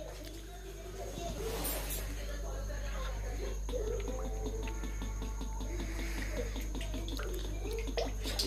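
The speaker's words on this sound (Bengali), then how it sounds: "এখন কড়াইয়ের মধ্যে তেল ঢালছে।" Cooking oil is poured into a kadai to fry kola pitha, a brief splashing gush near the start over a steady kitchen hum, with people talking nearby.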